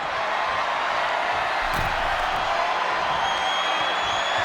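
A wrestling arena crowd roars and cheers steadily in the video game WWE 2K25 at a Clash at the Castle event in Scotland, a dense, continuous wash of noise with a brief louder swell partway through.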